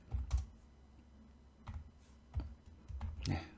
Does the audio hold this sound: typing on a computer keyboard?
yes